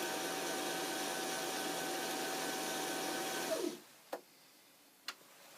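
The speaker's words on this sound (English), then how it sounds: "This particular machine does wind the bobbin nice and full." A Janome 8200QC sewing machine winds a bobbin with a steady, high whirring motor hum that winds down and stops, followed by two short clicks in the quiet.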